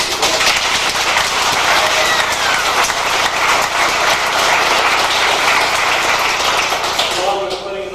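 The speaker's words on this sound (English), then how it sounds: "applause for all of you" Sustained applause from a crowd at a grandmother's birthday gathering, dense steady clapping that continues loudly for several seconds before starting to thin out.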